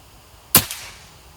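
A long-range BOCAP RTXX air rifle fires one sharp, loud shot outdoors, a short bright crack followed by a brief fading tail, with no voices.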